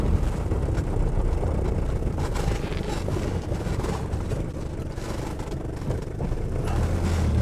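A Mercedes 240D diesel with a 4-speed gearbox pulling along in first gear, a steady, loud, droning engine noise mixed with road and wind roar from inside the cabin, no talking.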